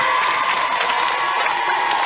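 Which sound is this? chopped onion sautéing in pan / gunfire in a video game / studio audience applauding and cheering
studio audience applauding and cheering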